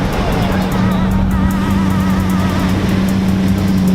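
A Lamborghini Huracan at the Zoute Grand Prix motoring event, its engine note loud and close as it goes by, a steady throaty drone holding for several seconds with no break.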